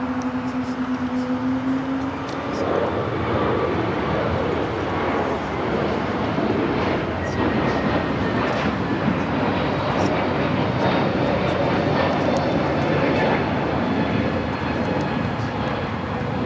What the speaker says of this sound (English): United A321 Neo taking off here on the south side.